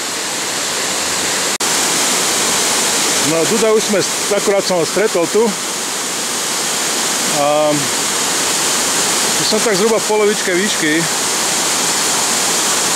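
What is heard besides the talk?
large waterfall roaring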